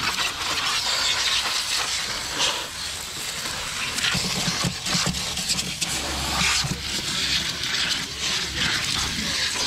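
A Turbo Jet water sprayer runs after its valve is opened, producing a loud, continuous broadband hiss and rush of spraying water close by, with no break for the whole stretch.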